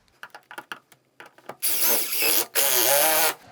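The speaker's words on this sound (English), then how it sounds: "I'll just use a couple of these trim screws to go into our stud" Power driver whirs as it sinks trim screws through window jamb trim into a wall stud, two loud bursts of motor whine after a few light taps and handling clicks.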